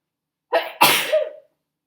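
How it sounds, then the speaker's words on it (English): A single loud sneeze right at the microphone, with a sharp intake followed by an explosive burst and a short trailing exhale, then silence. "I'm going to sneeze now."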